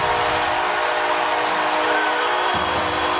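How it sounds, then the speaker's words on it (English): A stadium train horn blares in a long, steady, loud blast after a touchdown at a Notre Dame at Syracuse college football game in 2022, with crowd noise beneath it. "And that train horn sounds a little louder now, doesn't it?"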